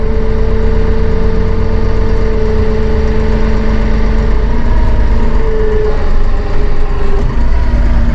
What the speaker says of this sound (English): We're just going to drop the loader and we'll take it up from stop position at idle speed.